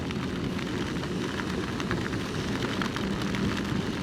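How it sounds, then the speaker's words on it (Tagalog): Rain heard from inside a car driving from Tagaytay to Manila, a steady, even hiss and patter with a low rumbling bed, constant and unbroken, with no voices. "Pero inabot tayo ng ulan."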